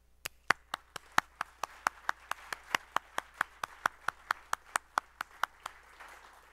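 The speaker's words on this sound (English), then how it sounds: "we're going to give you one last round of applause for your many contributions." A conference audience at the AIAA Space 2014 event claps in thanks to its committees, but the applause sounds sparse: a steady run of about two dozen sharp, evenly spaced claps, close and crisp, fading out at the end without voices.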